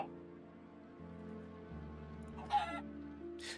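Chickens in Minecraft give a couple of short, faint clucks late on, over a soft, steady background hum.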